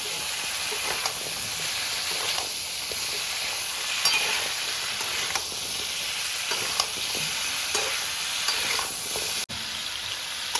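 Pumpkin stalks and mixed vegetables sautéing in a pan, a dense continuous sizzle with periodic stirring scrapes throughout, close and fairly loud with no voices.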